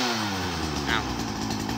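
A German-made Makita chainsaw with a 91 chain revs loud and close, a raspy two-stroke engine holding high, steady throttle with a voice briefly audible over it.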